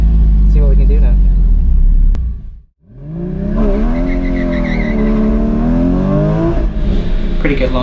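A Porsche GT4 981 launches at an autocross, its engine revving hard and rising through a long, loud pull, with a brief gap as it shifts and the tone climbs again, close and dominant.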